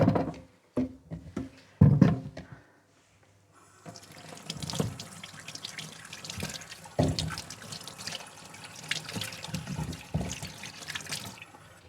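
Kitchen items are rinsed under a running tap, with a few clunks of handling first, then a steady stream of water splashing in the sink with shifting bursts as things are moved under it.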